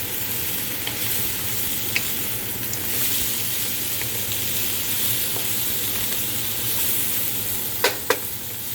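Frozen vegetables and onion frying in sesame oil for egg fried rice give a steady, close sizzle throughout, with two brief utensil clinks near the end.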